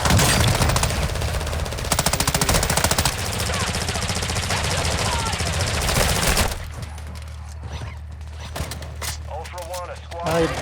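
Dense rapid automatic gunfire from Call of Duty: Modern Warfare II Warzone 2.0 DMZ fills the first several seconds, then breaks into sporadic shots and mechanical noises, with players talking over it.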